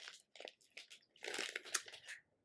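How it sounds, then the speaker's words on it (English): Aged Gouda cheese crispies are crunched close to the microphone, a quiet series of crisp, dry crackles and bites in irregular bursts, with no talking. "Aged Gouda cheese Crispies. All right, crunchy, cheesy, and authentically Dutch."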